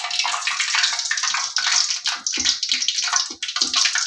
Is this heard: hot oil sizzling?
yes